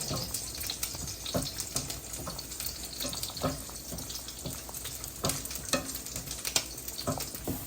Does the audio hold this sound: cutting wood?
no